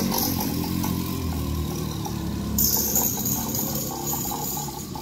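Rickety old moped engine, a worn, falling-apart motorbike, running steadily with a rough buzzing drone and slight revving swells, close and loud throughout with no talk.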